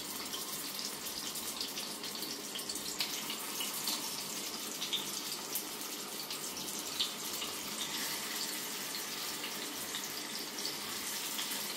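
Stuffed bitter gourds frying in hot oil in a pan, a continuous bright sizzling hiss that stays fairly even and moderately quiet throughout, with no voices.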